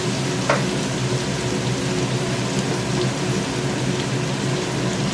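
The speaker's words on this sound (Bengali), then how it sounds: "হয়ে গেছে আমার পোস্ত আলু ভাজা" Potatoes with poppy seeds fry in mustard oil in a pan, giving a steady, close sizzle and crackle that runs unbroken throughout, with no voices over it.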